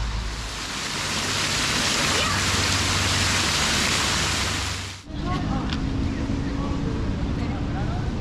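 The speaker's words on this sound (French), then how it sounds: "Ah bah voilà, une belle averse" A heavy rain shower hisses steadily and loudly, then abruptly drops to a lighter, patchier patter of rain.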